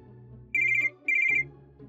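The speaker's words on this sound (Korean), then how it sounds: "다음날 전화." A telephone rings with two short electronic trilling bursts, clear and close, over a quiet background tone.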